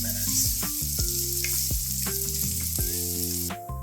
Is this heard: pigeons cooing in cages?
no